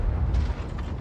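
A tank cannon shell firing in a tank video game, a single heavy low boom that rolls on as a sustained rumble for the full second, with no talk.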